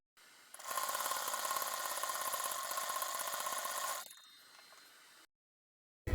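A sewing machine runs a straight seam along buckram on a neckline, a close, steady whirring stitch for about three and a half seconds before slowing and stopping.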